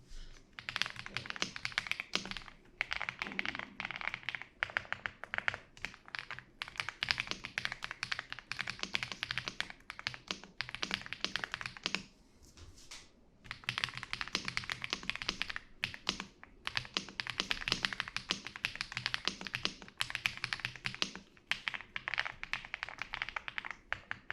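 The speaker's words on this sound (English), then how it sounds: "Let me try out this new keyboard with the mic close to it" Rapid, steady typing on a new computer keyboard, closely miked, with clicky keystrokes in continuous bursts and a brief pause midway.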